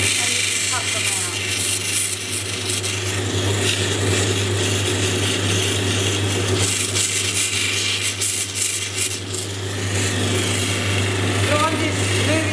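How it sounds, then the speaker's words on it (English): Opal stone pressed against a spinning grinding wheel and worked up and down to smooth its edges and curves, giving a steady, continuous abrasive rub over a low motor hum, close and sustained throughout. "So I'm just moving this up and down the wheel like this and smoothing off the edges and the curves"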